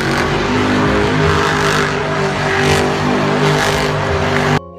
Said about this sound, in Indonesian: Lihat teman-teman, ada mobil monster.